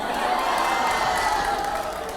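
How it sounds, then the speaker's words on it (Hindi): A studio audience on a Hindi talk show breaks into loud applause and cheering, a continuous crowd roar that holds steady throughout. "पहले जोरदार तालियां होनी चाहिए यहाँ पर"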